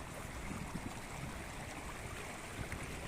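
Steady rushing and babbling of the Keduang River in Wonogiri fills the scene evenly, with no voices present.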